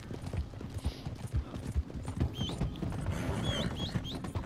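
Horse hooves clip-clopping in Red Dead Redemption 2, a quiet irregular trot of soft thuds with a few high bird chirps in the background.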